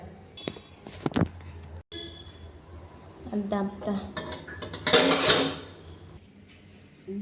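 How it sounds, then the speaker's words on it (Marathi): A few clinks and clatters of utensils on a griddle, then a louder scraping rush as food is set down on it and covered, with voices nearby. "आतां ते तव्याचेर दवरता आनी धांपता"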